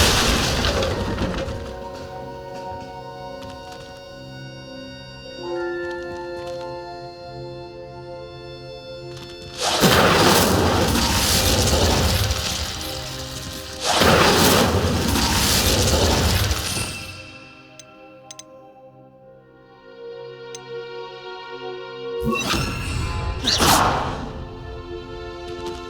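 Fiery spell blasts in Hogwarts Legacy as Confringo and Incendio smash candelabras, several loud whooshing, crashing bursts separated by stretches of orchestral music, with shattering debris after each impact.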